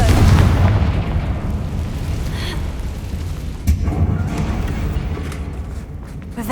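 A Confringo explosive spell blast in Hogwarts Legacy, a loud, deep boom that rolls on and fades over several seconds, with a second thump of impact partway through.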